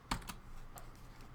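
Several quick keystrokes clatter on a computer keyboard, close and fairly quiet, with a short burst at the start and another tap a moment later.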